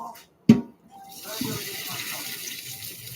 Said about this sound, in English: Draining the pasta.